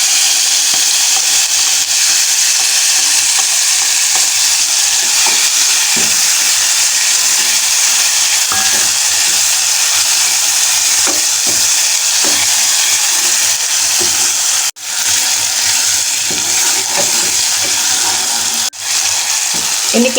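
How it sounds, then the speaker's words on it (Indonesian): Ground chili paste for sambal pacul sizzles in hot oil, a steady dense frying hiss running the whole time with a few small clatters, close and fairly loud. "Sepertinya minyaknya sudah panas ya Bun. Kita masukin cabenya yang udah kita ulek tadi."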